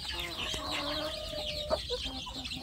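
Village chickens clucking in coops where hens brood, lay eggs and chicks in rearing pens beg for food, a busy overlapping chorus of clucks and calls at moderate distance, with a sharper squawk near the middle.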